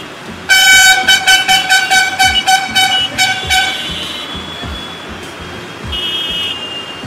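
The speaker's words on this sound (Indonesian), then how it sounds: "India sebagai negara paling bising gara-gara suara klakson" A harsh, blaring car horn sounds in rapid repeated blasts for about three seconds, then softer honks trail off amid busy Indian street noise.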